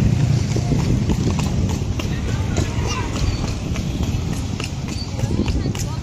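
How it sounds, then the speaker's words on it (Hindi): Hooves of a horse pulling a carriage clip-clop in a steady running rhythm throughout the ride, close and continuous beneath constant road and wind noise, with voices talking over it. "और हम लोग ये बैठे हुए हैं घोड़ा गाड़ी में, इसे आप देख सकते हैं।"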